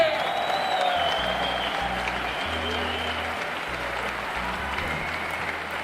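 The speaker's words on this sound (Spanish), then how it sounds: "Y el aplauso más fuerte para todo Durango y alrededores" Steady crowd applause fills the whole stretch, dense clapping with some background music or noise underneath, fading slightly toward the end.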